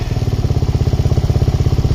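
A Suzuki LTZ400 ATV engine idles a little high after warming up, with a loud, close, steady rapid thumping pulse and an even, throbbing rhythm, and no talking.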